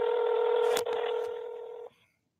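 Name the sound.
phone dialing tones calling a phone on speaker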